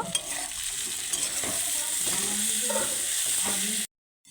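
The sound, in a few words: chopped onion stirred and frying with spices in oil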